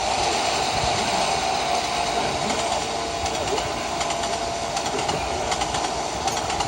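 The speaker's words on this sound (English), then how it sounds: "The train was going fast." A runaway train with no driver rushes steadily along at speed, a continuous loud rumble and roar with faint rhythmic clatter, heard from on board or very close.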